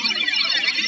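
A Massive X synth pad whose Anima oscillator pitch is swept by an LFO, sounding as a steady, sustained bright tone with shimmering upper harmonics and slight wavering, holding at an even level throughout.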